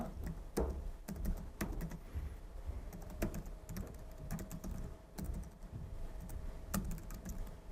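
Computer keyboard typing while writing Python code, a steady run of close, crisp key clicks with uneven rhythm and a few louder strokes, alone without speech.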